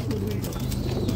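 Pigeon hen cooing inside a loft, soft steady low murmuring coos that run continuously through the short stretch, close by with no talk.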